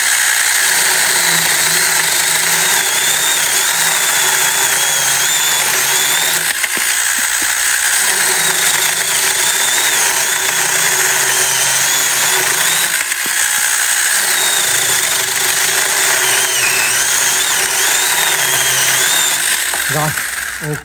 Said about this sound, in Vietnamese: em cưa cái cây cho anh em xem thử luôn nha